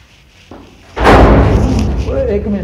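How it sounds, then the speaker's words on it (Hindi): A door slams shut hard inside a house during an upstairs visit: one loud, sudden thud after a faint knock, followed by a lingering rumble while people talk. "ये आपको आवाज आई, दरवाजा बड़ी जोर से बंद हो गया।"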